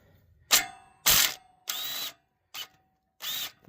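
A hand ratchet and 12mm socket working a bolt during clutch and slave cylinder work on a Hyundai Genesis Coupe, producing five short, close, buzzing ratchet bursts separated by brief pauses.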